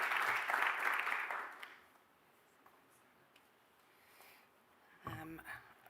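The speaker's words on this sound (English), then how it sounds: "can we give our panelists and moderator a round of applause?" Audience applause for a conference panel and its moderator at a university event, a burst of clapping at the start that fades within two seconds, leaving quiet room tone and a brief rustle near the end.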